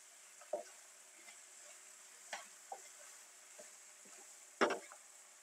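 Spinach wilting in an open pan with faint, scattered crackles and soft stirring clicks at irregular intervals, including one sharper, louder scrape near the end, over a quiet background.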